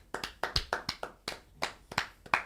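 Hand claps, about a dozen sharp, close claps in an uneven, loose rhythm, alone and fairly quiet.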